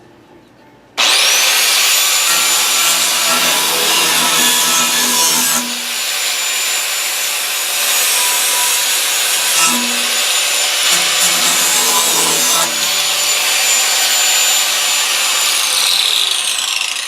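A power saw cuts wood with a loud, sustained buzzing rasp that begins abruptly and runs steadily for many seconds, with slight pitch shifts as the blade loads, close and without talk.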